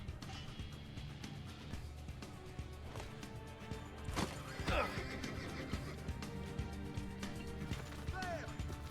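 A horse in Assassin's Creed II (Ezio era) neighs loudly around the middle, with hooves clopping and game action noise throughout; a player talks over it.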